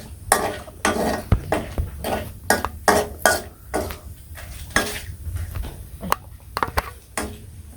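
Whole cardamom pods and cinnamon sticks tossed into a hot cooking pot, giving a string of sharp clinks and scrapes of a spoon against metal over a faint sizzle, close and fairly loud, with no talking.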